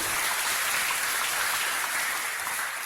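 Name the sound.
applause for Olive entering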